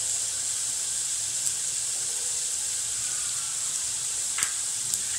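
Coconut and garlic paste frying in a pan with onions for a Marathi gavar (cluster bean) curry, a steady close hiss and sizzle throughout with a couple of faint clicks.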